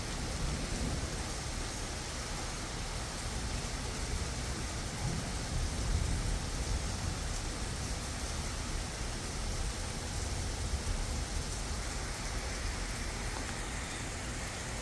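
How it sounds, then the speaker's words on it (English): Rain falls steadily during a thunderstorm, an unbroken hiss of drops at an even level with no voices. "I'm sure you can hear the rain."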